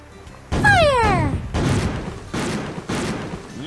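Pirate cannons fire in a kids' cartoon video game: a loud falling whistle leads into a heavy boom, followed by two more booming blasts at roughly even intervals, with a voice calling out at the start.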